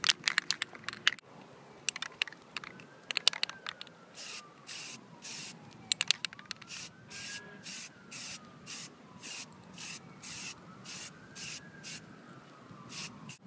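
A can of Rust-Oleum NeverWet rattles as it is shaken, with sharp clicking knocks, followed by a rhythmic series of short hissing spray bursts.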